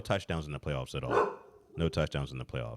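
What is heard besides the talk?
dog barking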